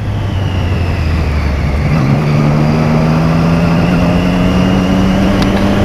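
A motorcycle engine droning loud and close, its pitch rising as it revs up midway and then holding a steady higher whine.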